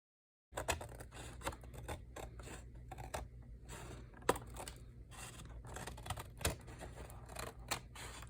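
Scissors trim the excess edge off a hexagon masterboard of paper, making a run of close, crisp snips and small scratchy paper rustles, faint and near.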